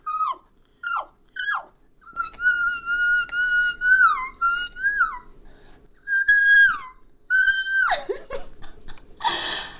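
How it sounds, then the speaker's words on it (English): A voice practices very high whistle-register notes in short squeaky bursts and sliding swoops, some held briefly, ending with a breathy exhale. "now that you've started to find that whistle register at the top of your voice"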